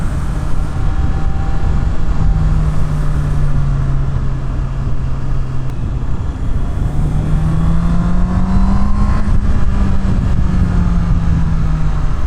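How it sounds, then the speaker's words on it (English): Honda CB650R inline four-cylinder motorcycle engine revving steadily while riding behind a car on a road, a continuous loud drone with gently rising and falling pitch and no talking. "you rev this thing out, it feels like your classic inline 4-cylinder kind of vibes"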